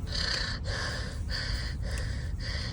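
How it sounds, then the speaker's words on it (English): Heavy, rhythmic breaths rasp right up against a microphone, about four slow inhale-exhale cycles in steady succession, loud and close, while someone works on crocheting a chunky beanie. "Am I breathing heavy? I feel like I'm breathing heavy."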